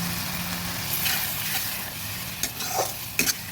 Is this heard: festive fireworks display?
no